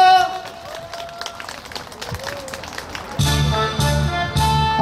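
Outdoor concert crowd at a special stage by the Han River park clapping for a singer, a scattered patter under a voice, before loud music starts partway through.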